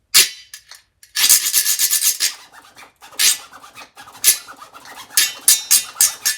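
Fast rhythmic scraping strokes on a zydeco washboard tie give bursts of bright, raspy ratcheting in quick uneven clusters, close and loud with brief gaps between strokes and no talking.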